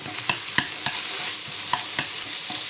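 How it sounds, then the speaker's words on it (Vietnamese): Meat stir-fried in a pan for a Central Vietnamese bánh bèo dish, with a steady close sizzle broken by a handful of sharp scraping strokes at uneven intervals; no one speaks. "Rồi xào cho cái thịt nó chín."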